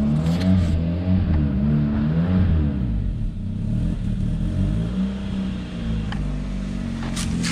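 A car engine running with maple syrup in place of engine oil idles and revs inside a garage, its pitch rising and falling in uneven swells, loud and close, with some clattering and no talking.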